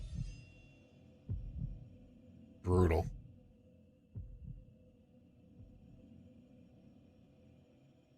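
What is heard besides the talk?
heartbeat sound effect in Final Fantasy VII video game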